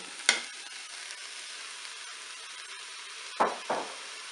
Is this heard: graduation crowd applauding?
no